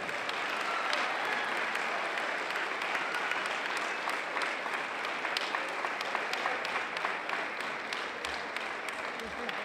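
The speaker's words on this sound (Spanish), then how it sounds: "Un fuerte aplauso para él." Crowd applause at the Barbastro festival's 2016 Peña El Portal honour ceremony, a dense, continuous clapping from a large gathering that stays even and loud for nearly ten seconds.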